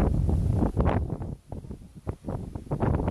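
Cold wind blowing in Tagaytay, gusting loudly against the microphone in uneven rushes and lulls, with no clear speech over it.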